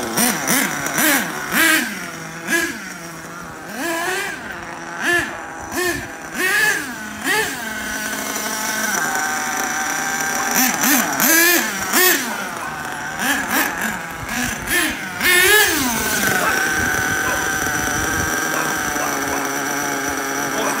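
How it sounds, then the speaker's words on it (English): A Tamiya TA02SW nitro RC car engine, its low speed needle leaned out, revs in sharp repeated bursts, then holds a steady high buzzing whine, loud and close. "Now that we're leaning out the low speed needle, the car has a lot more snap."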